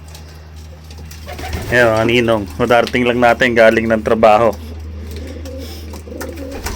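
Pigeons cooing in a loft, soft low coos heard under someone talking close to the microphone, with a steady background hum throughout.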